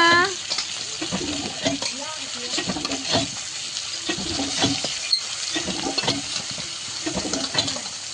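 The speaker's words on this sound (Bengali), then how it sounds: "কড়াইতে তো পেঁয়াজ কুচি দিয়ে দিয়েছি, আর পেঁয়াজ কুচিটা প্রায় লাল লালও হয়ে এসছে।" Chopped onion, nearly browned, fries in a kadai as it is stirred, a close sizzle with repeated scraping strokes and a voice talking intermittently over it.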